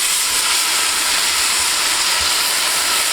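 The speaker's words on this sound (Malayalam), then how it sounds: "ഇതിനകത്തോട്ട് ആദ്യം നമുക്ക് ടൊമാറ്റോ കെച്ചപ്പ് ഒഴിച്ച് കൊടുക്കാം" Tomato ketchup poured into a hot pan of capsicum for dragon chicken, giving a loud, steady, close hiss of sizzling that holds unbroken throughout.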